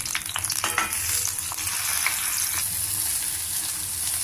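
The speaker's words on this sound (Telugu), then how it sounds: "నూనె వేడెక్కాక చిన్నగా కట్ చేసుకుని పెట్టుకున్న వంకాయ ముక్కలు కట్ చేసుకున్న టమాటాలు నూనెలో మగ్గించుకోవాలి" Small-cut eggplant pieces and chopped tomatoes softening in hot oil, a dense, even sizzle close by with occasional stirring clicks, and no talking.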